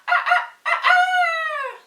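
A person vocally imitates a rooster crowing, two short syllables then a long sustained call held at nearly one pitch before dropping at the end, loud and close with no other sound.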